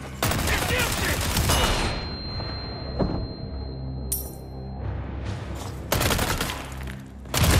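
Gunfire aimed at an enemy in Resident Evil 4 Remake: loud repeated bursts of shots, a dense volley at the start and more blasts near the end, with a high ringing tone and quieter thuds in between.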